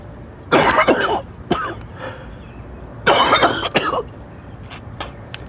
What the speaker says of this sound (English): I have to cough because